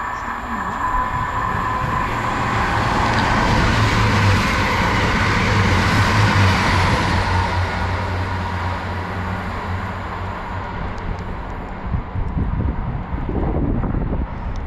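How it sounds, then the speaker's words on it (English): A Chiltern Railways two-car 165 diesel unit on an Oxford to London Marylebone service passes through Princes Risborough station, a loud sustained rumble and rail roar with wind buffeting the microphone throughout. "passing through now is going to be a Chiltern Railway service to London Marylebone from Oxford."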